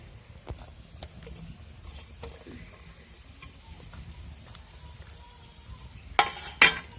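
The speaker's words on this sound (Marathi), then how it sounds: "आता मी कांदा पण टाकून घेतलेला त्याच्यामध्ये आणि आपल्याला चांगला लाल कांदा परतून घ्यायचा आहे" Onion fries in a kadai over a village fire, a low continuous sizzle with scattered stirring scrapes and clinks, closing with two sharp metallic knocks.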